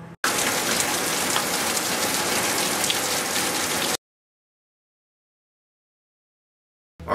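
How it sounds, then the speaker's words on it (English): Rain from a storm pours down as a dense, even hiss for about four seconds, then cuts off abruptly into silence before a short burst returns at the very end. "The storm's rolling in now"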